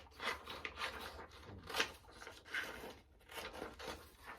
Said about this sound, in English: I'm gonna cut it so I can see a little bit better